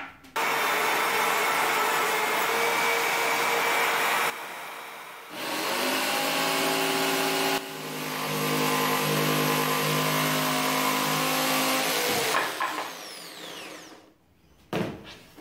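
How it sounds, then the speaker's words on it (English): A jigsaw cuts through a plywood board for a workbench top in loud sustained bursts of buzzing, rattling blade noise, broken by short pauses and ending with the motor winding down. "my jigsaw skills need a lot of improvement, which is why I'm glad I went super conservative and I only cut that a centimeter bigger than I needed to"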